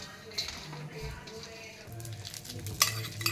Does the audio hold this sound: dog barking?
no